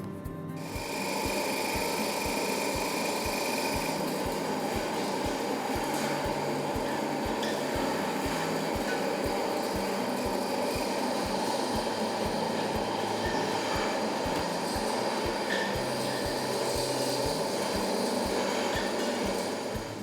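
Grinding machine milling oven-dried mushrooms into flour, a loud continuous mechanical roar with a steady rattling drone that holds throughout without pauses.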